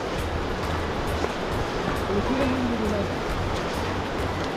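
The Bhavani river flows in a steady broadband wash of water noise, a continuous rushing close by with no break or pause.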